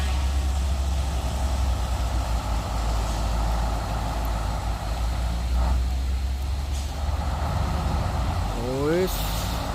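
A Pertamina tanker truck powers away on a hilltop road, its heavy diesel engine roaring loud and steady close by throughout, with a brief air-brake-like hiss and a rising tone near the end.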